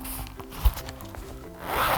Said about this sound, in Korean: 지퍼